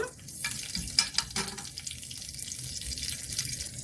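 Ingredients for coriander chutney fry in a pan with a steady soft sizzle, broken by a few scraping stirs near the start.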